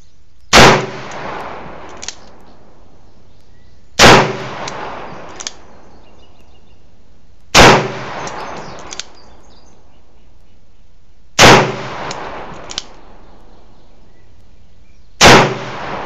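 Five sharp, loud reports from an RIA 1911 pistol at a shooting range, spaced roughly three to four seconds apart, each with a quick decaying echo and faint clinks between shots.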